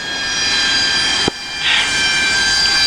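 An F-18 jet taxis on a runway in the DCS World flight simulator, its engine giving a loud, steady whine and roar with a brief thump partway through, and no speech.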